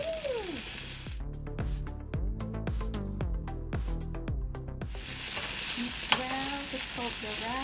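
Cooked rice and sauce sizzle steadily in a hot pan during stir-frying, with a bright, continuous hiss and a series of stirring scrapes, all close and loud with no talking.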